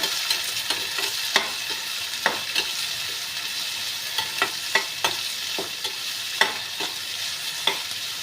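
Carrots and beans fry in a spiced oil tempering for vermicelli upma while a spoon stirs them, a steady sizzle broken by frequent sharp scraping clicks against the pan, close and moderately loud with no talk.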